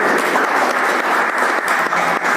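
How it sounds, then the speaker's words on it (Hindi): Loud, dense applause from a large crowd, sustained clapping throughout without voices on top. "एक बार जोरदार तालियां बजाइएगा"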